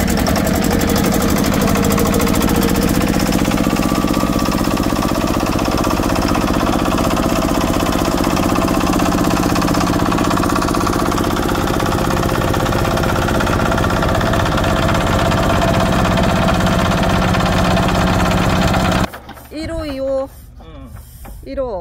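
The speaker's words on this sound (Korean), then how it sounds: "시동 수동 시동 한번 걸어 보려고" A power tiller engine idles loudly and steadily with a mechanical knocking chug after a manual start, then cuts out near the end as voices talk briefly.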